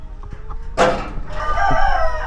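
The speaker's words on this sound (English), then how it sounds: "I got a white chicken. It's a good one. It's a good white chicken." On a Thai farm, a white chicken gives a few soft clucks, then a loud, close rooster crow bursts out and carries on to the end, with no talk over it.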